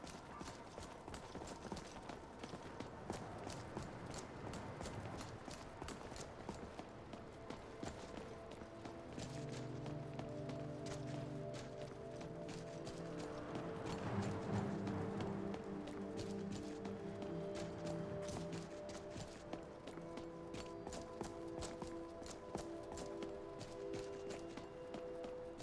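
Horse hooves in Skyrim Special Edition, a steady run of clip-clopping footfalls near and fairly quiet, continuing throughout under a low droning game soundscape.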